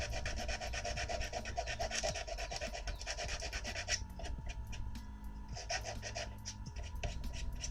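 Dried glue on a Predator cosplay build is sanded by hand, rapid rhythmic rasping strokes close up in quick repeated bursts with a brief pause midway.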